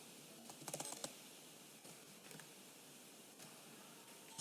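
Quiet typing on a computer keyboard while writing code, a short burst of rapid keystrokes followed by scattered lighter taps, close but faint.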